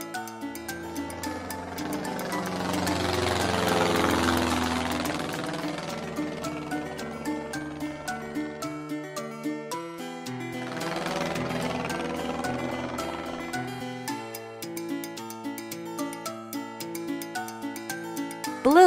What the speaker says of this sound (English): Blue, sporting airplane